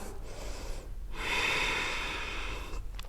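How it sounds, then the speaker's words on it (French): A long breathy exhale through the mouth during a French yoga session, a soft steady rush of air lasting a couple of seconds after a quieter breath, close and alone without talk. "Vous pouvez prendre une grande respiration par le nez. Expirez par la bouche."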